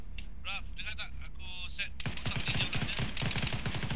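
Gunfire in Arma, a rapid rattling burst of automatic shots that starts abruptly midway and continues loud and dense, preceded by voices talking over radio chatter.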